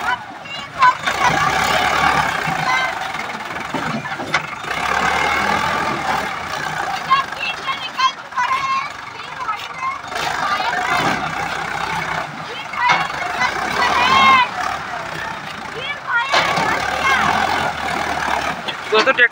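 A Sonalika 750 tractor strains as it rocks back and forth to climb out of mud, its engine droning and surging in repeated pushes under near-constant talk.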